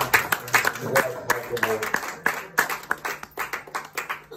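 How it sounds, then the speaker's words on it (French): A church congregation claps and cheers at a deliverance prayer service, a dense, irregular burst of applause with some voices mixed in, fairly close and loud throughout. "On va acclamer."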